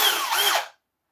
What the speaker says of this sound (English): So I'm going to get the drill driver out. I'm going to take these screws out,